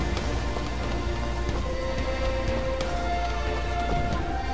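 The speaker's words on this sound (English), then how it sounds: "There's rain, and look how detailed this rain is." Steady rain falls across a scene in the side-scrolling action game Dust: An Elysian Tail, a dense continuous patter that holds at a constant level throughout with no voices.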